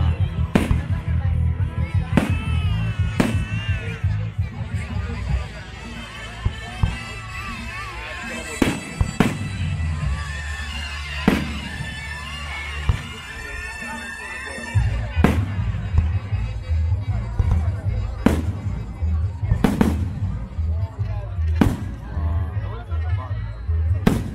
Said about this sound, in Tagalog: So kanina natapos na ang fireworks display.